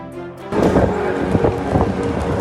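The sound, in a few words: sudden rainstorm in Mina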